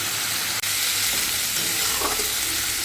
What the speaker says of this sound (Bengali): ভালো করে নাড়াচাড়া করে একটু কষে নিই